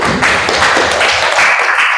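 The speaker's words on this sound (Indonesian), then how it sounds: "Tepuk tangan." A dense, continuous wash of hand clapping fills a classroom as students applaud classmates, loud and close, holding steady for a couple of seconds with no voices on top.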